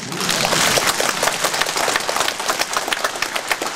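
An audience at a lecture hall talk by a former Gyeonggi provincial governor breaks into steady, dense applause, a loud, even wash of many hands clapping throughout.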